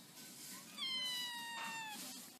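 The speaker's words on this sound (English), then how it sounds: "What does a kitten say?" A kitten gives one drawn-out, high, thin meow lasting about a second, fairly close, over faint room noise with no talk.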